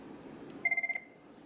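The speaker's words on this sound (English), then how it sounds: "the ringtones are customizable if you have ringtone stuff" An IP desk phone on an Asterisk/FreePBX VoIP system gives a short burst of rapid trilling electronic ring pulses, clear and close over quiet background hiss.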